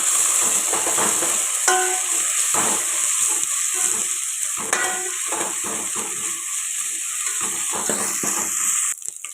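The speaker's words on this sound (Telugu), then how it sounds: "అల్లం వెల్లుల్లి పేస్ట్ ఇది కూడా పచ్చివాసన పోయేదాకా ఫ్రై చేసుకుందాం" Onions with ginger garlic paste frying in a pan for egg biryani, a steady close hiss of sizzling oil broken by irregular spatula scrapes and stirring, with no talking.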